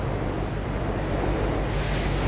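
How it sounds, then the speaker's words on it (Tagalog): Strong surf rolls in on a beach after a typhoon, a steady broadband roar of waves with wind buffeting the microphone and no speech. "Lakas pa ng alon eh"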